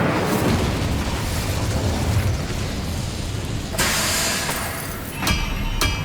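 An Incendio fire spell in Hogwarts Legacy bursts as a loud, rumbling blast that roars on for a few seconds, followed by a brighter whoosh and several short sharp pops near the end.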